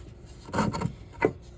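A pencil marking a wooden cornhole board leg, two short scratchy strokes close by, quiet and brief.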